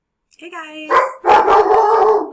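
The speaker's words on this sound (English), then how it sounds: "That was my dog saying hello." A pet dog gives a short whining yip and then a couple of loud, close barks, and a person speaks briefly over the barking.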